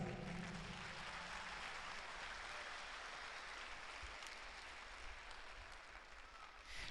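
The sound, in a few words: congregation clapping hands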